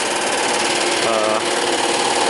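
A Lexus GS300 engine idles loud and steady after sitting unused for over a year, a fast mechanical clacking running through the whole stretch with no break.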